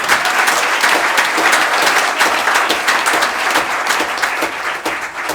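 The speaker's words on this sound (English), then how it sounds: "Yeah, you can clap at that." A committee meeting audience applauds a middle school softball team after its championship is announced, with full, sustained clapping that is loud and even and slowly tapers near the end.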